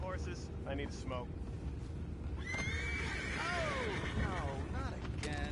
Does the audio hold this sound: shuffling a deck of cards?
no